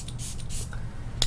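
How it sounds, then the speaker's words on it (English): A facial setting mist sprayed close up, giving a few short airy hisses with a sharper burst near the end over a low background rumble. "So you can give yourself a generous spray."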